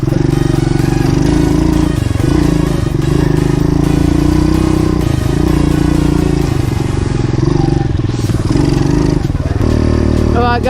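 A pit bike engine drones loud and steady while being ridden, its gritty note holding throughout with small dips and surges of throttle and some clatter mixed in.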